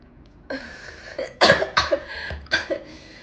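A woman coughs several times in quick, close bursts, a few sharp hacking coughs in a row after a softer throat sound, with no talking.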